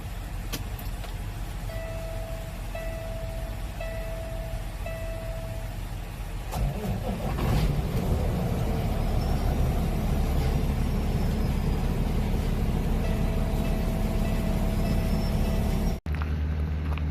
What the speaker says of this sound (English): watching one guy try to tow another guy out of a fuel island